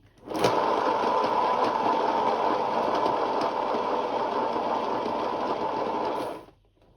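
Pour-painting spinner whirring steadily at high speed for about six seconds, a loud continuous motor drone that starts abruptly and cuts off near the end.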